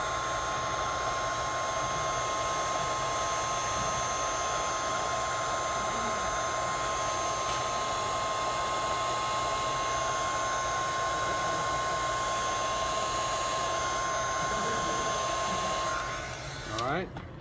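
A hot air tool heats the screen of a Samsung Galaxy S5 during a cracked screen repair, giving off a steady, fairly loud blowing hiss with a thin constant whine, fading and clattering briefly at the end.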